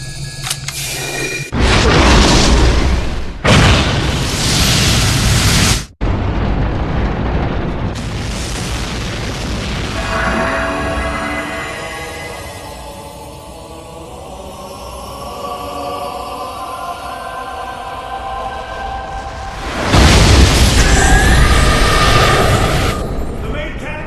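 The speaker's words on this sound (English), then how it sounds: "The main cannon was aimed and fired." An anime spaceship's main cannon fires in heavy, booming blasts, with loud bursts at the start, a long rumbling roar through the middle and another powerful blast near the end, and spoken dialogue mixed in.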